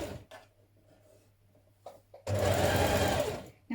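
A sewing machine hems a blouse with a small double fold in a brief, loud burst of fast stitching that lasts over a second, after quiet handling noises and a faint hum.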